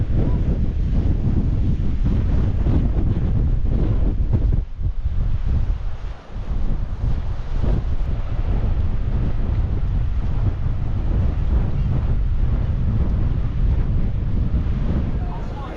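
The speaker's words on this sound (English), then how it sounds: "Yeah, it's like a wind tunnel here." Strong wind roars across the microphone in Naxos old town, a loud, continuous buffeting that briefly dips at about five seconds before surging again.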